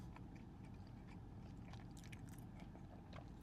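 A person chews food close to the mic, soft wet bites and crunchy mastication repeating irregularly over a low steady background hum, fairly quiet throughout.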